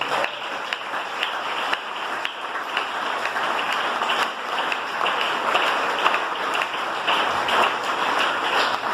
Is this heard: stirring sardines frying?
no